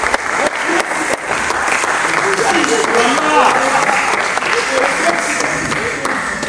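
Continuous applause from a gala audience at a Congolese cinema awards ceremony during a trophy presentation, steady and dense throughout with some crowd murmur mixed in.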